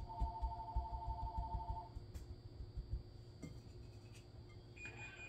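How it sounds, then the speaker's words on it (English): Phone ringing in a home kitchen, a quick run of repeated electronic beeps at the start followed by a quieter tone near the end, faint against low background noise. "Oh, the phone's ringing."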